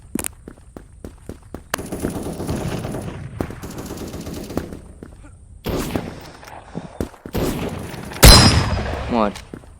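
Pump shotgun fire in the Krunker browser shooter game, with sharp repeated shots and rapid bursts over quick footstep clicks and a loud blast near the end.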